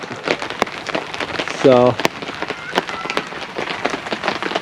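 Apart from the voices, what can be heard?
rain beating on a tent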